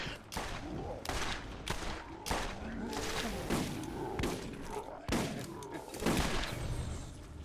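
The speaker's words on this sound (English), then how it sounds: "I really like this shotgun." Rapid heavy shotgun blasts in the Borderlands Game of the Year Enhanced video game, about eight loud sharp booms at irregular intervals mixed with thuds and crashes, with people talking over them.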